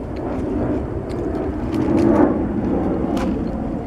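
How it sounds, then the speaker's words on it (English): An airplane passes overhead above a park picnic, a broad, distant rumble that swells briefly and then fades, with faint outdoor background sounds and no talking. "Airplane."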